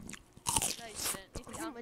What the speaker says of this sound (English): I'm munching celery.